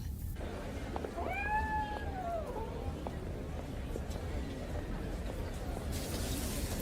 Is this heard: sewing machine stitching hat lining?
no